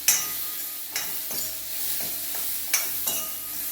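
Boiled beans with red chili and coriander-cumin powder are stirred in a pan, a soft sizzle under repeated scraping strokes and a few sharp spoon clicks against the metal, close by.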